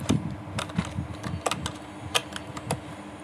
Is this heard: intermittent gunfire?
no